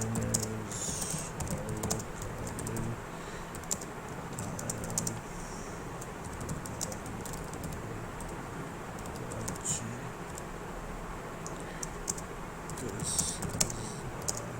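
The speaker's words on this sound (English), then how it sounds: "Alright, let me type." Someone types on a computer keyboard, producing a continuous patter of soft key clicks with occasional louder taps, fairly close but quiet.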